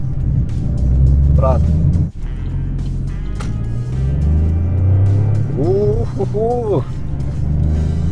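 Opel Corsa from Europe with a 75-horsepower engine accelerating, a steady low engine drone and road rumble running throughout, heard from inside the car while people talk over it.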